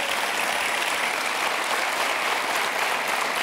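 A television studio audience applauds steadily, a dense even wash of clapping that stays at a constant moderate level from start to finish, with no voices above it.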